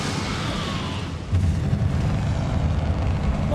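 Confringo fire-blast spell from Hogwarts Legacy, a dull rumbling explosion bursting in partway through and rolling on loudly to the end over a steady game background.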